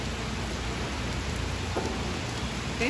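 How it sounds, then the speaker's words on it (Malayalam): Heavy rain pours down outside a house in a dense, continuous roar of falling water, steady and loud from start to finish with no voices. "നല്ല പേരും മഴ പെയ്തുകൊണ്ടിരിക്കുകയാണ്"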